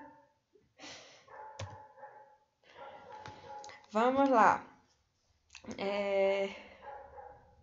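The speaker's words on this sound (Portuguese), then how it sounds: "E essa serenata toda é do cachorro do meu vizinho." A neighbour's dog barks and yelps in several bursts from nearby, with rising and falling whimpering cries, while a person speaks briefly between them.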